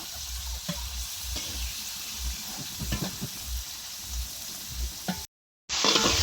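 Shelled prawns fry lightly in a home kitchen pan, giving a faint, steady sizzle with soft stirring bumps and a brief break near the end.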